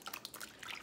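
Water drips and trickles faintly and close by while a marbled mask is rinsed, a brief patter of small liquid plinks.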